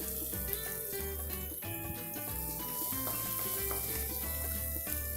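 Kohlrabi kurma with coriander, chili and turmeric powders sizzling in a pan, a continuous soft frying hiss with some stirring, while music plays prominently alongside.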